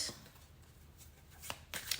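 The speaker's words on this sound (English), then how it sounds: "shuffle your cards to see what you need to hear right now" Tarot cards being shuffled by hand, a soft continuous riffle of card edges with a few sharper snaps toward the end, close and fairly quiet, with no talking.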